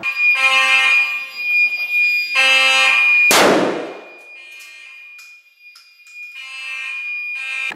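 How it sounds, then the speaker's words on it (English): A school fire alarm blares in loud repeated electronic tone bursts, cut by a sudden sharp bang with a crashing decay, then the alarm tone continues more faintly. "Fire alarms have been activated."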